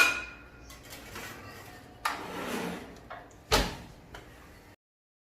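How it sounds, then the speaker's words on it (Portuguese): Corn bread trays going into a preheated oven, with a metal oven door and racks clattering, a few distinct knocks and a final thud before silence. "E agora eu vou colocar eles no forno."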